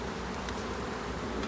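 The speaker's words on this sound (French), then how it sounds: "On voit les abeilles dessus là." Honeybees on a hive frame, a steady, faint, continuous buzzing drone with no voices.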